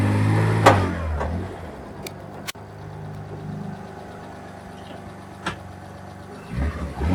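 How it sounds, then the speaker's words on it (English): A Ford Anglia engine runs at idle with a clutch problem, a steady close mechanical hum with occasional knocks and clicks and a brief rev near the end, no talking. "run the engine and get under there and see what's happening with it again"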